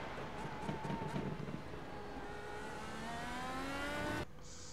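An IndyCar engine in a racing video game on the Belle Isle circuit, revving hard as the throttle comes back on, its pitch climbing steadily and loud before cutting off abruptly near the end.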